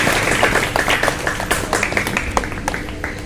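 Audience at a library groundbreaking ceremony in a village clapping to honour a guest, a dense round of hand claps with sharp individual slaps, moderately loud and continuous.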